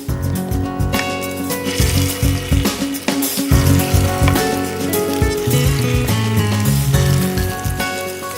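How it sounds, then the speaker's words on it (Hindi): Fish kebabs made with gram flour fry in hot ghee, a steady, dense sizzle and crackle filling the whole stretch with no voices over it. "घी गरम हो गया और अब हम तलते हैं कबाब।"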